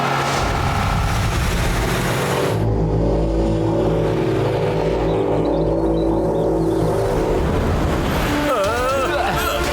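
A cartoon car speeds along in a chase through Furfuri Nagar in Motu Patlu, giving a steady engine drone and road roar throughout, layered with other soundtrack noise.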